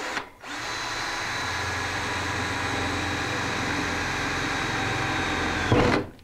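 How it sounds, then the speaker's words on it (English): A 1-inch hole saw drills steadily through metal during electrical work, giving a loud, continuous whine for about five seconds that starts and stops abruptly, with no talking. "if you're going to drill 1 inch hole, then just grab your 1 inch hole saw, put it on your mark"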